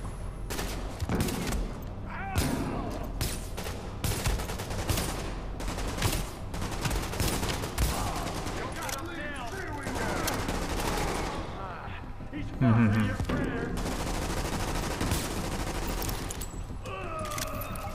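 Dense bursts of gunfire from The Division Underground, a video game, with rapid overlapping shots and automatic fire through most of the stretch, some voices mixed in underneath.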